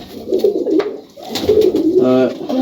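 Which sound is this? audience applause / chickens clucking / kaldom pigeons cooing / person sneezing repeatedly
kaldom pigeons cooing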